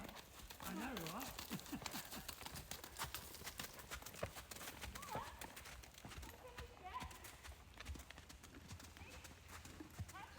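Hooves of the horse DaVinci clip-clop steadily at close range after a riding lesson in the rain, with an occasional whinny and people talking over the footsteps.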